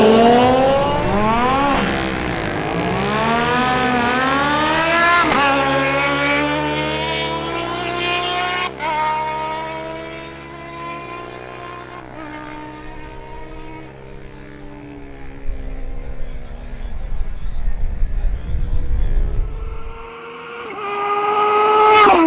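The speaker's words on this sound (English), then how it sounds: "Next, we have Nico Gonzalez on his Honda XR200R versus Harold Rodolo's Kawasaki ZH2." Drag race between a Honda XR200R and a Kawasaki ZH2 motorcycle: loud engines rev hard and rise in pitch through several gear shifts, then fade as the bikes pull away down the strip.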